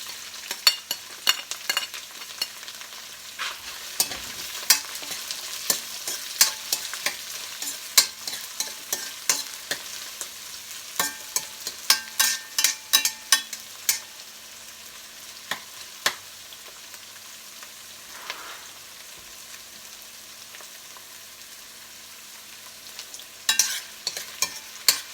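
Onion fries in a pan with garlic and pre-boiled carrots, giving a steady crackling sizzle punctuated by many sharp scraping and tapping stirs, busy at first, then quieter before a final flurry. No voices are heard.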